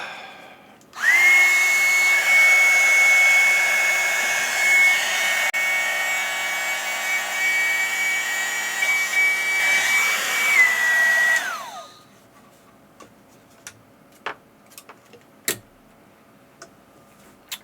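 A heat tool blows steadily on heat shrink tubing over a soldered ham radio radial wire, a continuous close airy roar lasting about eleven seconds with a faint tone, then cutting off to leave a few light clicks and taps.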